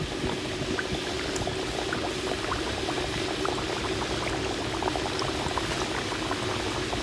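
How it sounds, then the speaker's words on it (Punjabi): Samosas are deep-fried in oil, giving a dense, steady bubbling crackle that holds evenly throughout, close and moderately loud with no voices. "ਹੁਣ ਆਪਾਂ ਇਹਨਾਂ ਨੂੰ ਫਰਾਈ ਕਰ ਲਾਂਗੇ ਇਸ ਤਰ੍ਹਾਂ ਸਾਰੇ ਆਪਾਂ ਹੁਣ ਤੇਲ 'ਚ ਛੱਡ ਲਾਂਗੇ"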